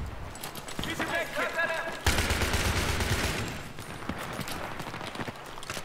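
Rapid rifle fire from a G3A3 in the shooter game Battlefield 3, dense bursts of loud gunshots mixed with other battle noise, with talk running over the shooting throughout.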